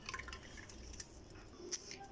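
Cooking oil poured into a blender of cake batter makes a quiet liquid trickle with a few soft drips, close and faint, with no talk.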